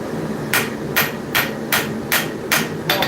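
Seven sharp hammer blows ring out at a steady rhythm on hot metal being forged, each a bright clang over a low background rumble.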